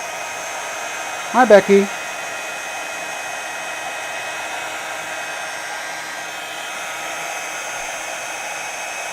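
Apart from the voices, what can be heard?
heat tool melting embossing powder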